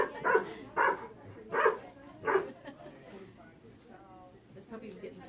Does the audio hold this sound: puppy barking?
yes